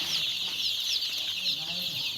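Tiger chickens on a farm cluck softly and continuously at a distance, a busy overlapping chatter of several birds, fairly quiet throughout.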